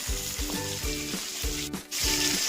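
Bhetki fish pieces fry in oil for paturi, a close bright sizzle pulsing with a regular rhythm of stirring or turning scrapes.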